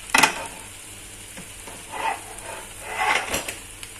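Celery leaves and leek sizzle in hot frying oil while being stirred, with bursts of crackling and scraping strokes against the pan at intervals.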